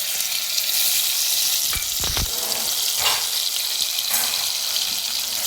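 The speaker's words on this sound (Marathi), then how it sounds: "लसूण थोडा लालसर तांबूस कलरवर परतून घ्यायचं" Crushed garlic fries in a pan for a Marathi-style okra and prawn curry. A steady, close sizzle continues throughout, broken by a brief clatter of stirring.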